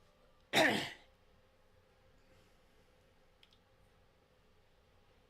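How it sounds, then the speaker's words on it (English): One short, close cough or throat clear bursts out, then quiet room hiss follows with a faint tick or two. "Coughing might not be a good thing."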